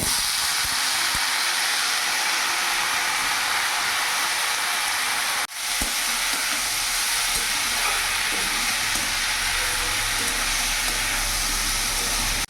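Ash gourd pieces sizzle in a pan with browned frying onion and chilli, a loud, continuous broad hiss that holds steady, with one brief dip partway through.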